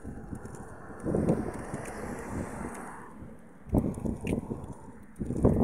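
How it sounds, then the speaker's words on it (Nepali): Wind blowing outdoors near a park, a rough gusty rush buffeting the microphone, rising and easing in waves and loud throughout. "हावा चलिरहेको छ।"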